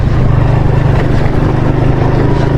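A motorbike engine drones loud and steady at close range while riding a mountain road near Naran and Kaghan, with a constant low rumble and wind buffeting throughout.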